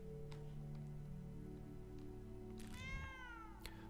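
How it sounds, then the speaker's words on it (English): In the video game Moon Hunters, a cat gives a single drawn-out meow near the end, with a bending, rising and falling tone. It rises out of a steady droning game soundscape that plays throughout. "The cat narrows its eyes and jumps down from its perch to follow you watchfully"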